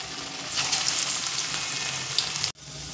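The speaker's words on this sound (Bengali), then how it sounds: "আর লো ফ্লেমেই কিন্তু প্রথমে ভাজতে হবে।" Pointed gourd (potol) pakoras fry in hot oil over a low flame, giving a steady, close sizzle that brightens briefly before cutting off abruptly near the end.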